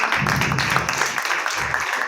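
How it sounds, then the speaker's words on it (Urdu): Loud applause for a teacher rises from a congregation at a church gathering, a steady dense patter of many hands clapping that holds evenly throughout. "میں چاہتی ہوں کہ برشالشوا کے لیے زوردار تالیاں بجائیں۔"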